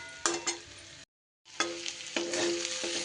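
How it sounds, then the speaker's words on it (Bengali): Cauliflower fries with spices in a pan over low heat, giving a soft, steady sizzle broken by a few stirring scrapes and a short silent gap partway through. "গ্যাসটা কমিয়ে নিয়ে একটু বেশি সময় ধরে ভালো করে ভেজে নিতে হবে মশলার সাথে"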